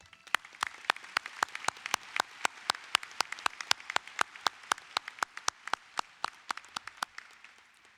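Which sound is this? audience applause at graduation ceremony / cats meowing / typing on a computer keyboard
audience applause at graduation ceremony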